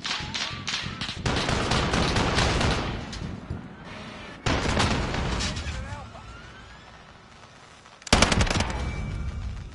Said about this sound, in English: Let's see if I can get him with the pistol.